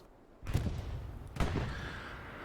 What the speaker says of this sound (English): Artillery is raining down on the area of one CDO here more and more.